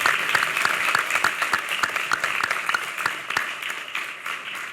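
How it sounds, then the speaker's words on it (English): Audience applause at a New York wine, beer, spirits and cider summit, a dense, steady clapping from a crowd lasting throughout, loud and close with no talk over it. "let's give him a round of applause for standing up"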